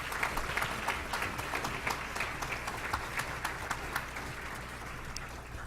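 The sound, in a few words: audience applause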